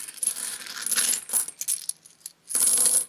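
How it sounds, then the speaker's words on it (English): Metal coins from the Xia: Legends of a Drift System board game clink and jingle in several bright bursts, some short and one longer rattle at the end, close and clear with no talking. "It's got metal coins, which Quentin Smith says they're so amazing"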